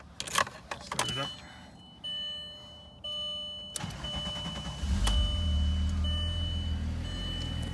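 A Volkswagen Eurovan Westfalia camper with about 244,000 miles is started. Clicks and brief electronic chimes come first, then the engine catches and settles into a steady low idle, with a person speaking nearby.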